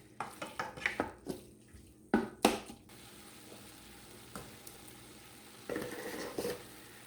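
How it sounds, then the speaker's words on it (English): Meat browns in a Power Pro XL cooker, with a faint steady sizzle under a cluster of close scraping stirs and utensil knocks at the pot. "you just want to cook your meat down until it's not pink anymore"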